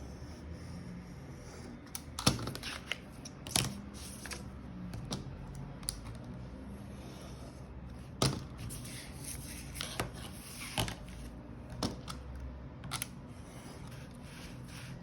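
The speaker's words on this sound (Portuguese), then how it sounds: "Então a gente vem com estilete, a gente tira os excessos." Utility knife trimming excess paper while making a handmade photo album, a run of close, sharp scraping cuts and clicks spaced irregularly over quiet handling noise.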